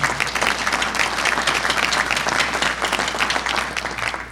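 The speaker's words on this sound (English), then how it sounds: "I think a round of applause to Andy for actually taking the time" Steady applause from an audience at a chamber of commerce panel discussion on life sciences, dense continuous clapping for the full few seconds with no voices over it.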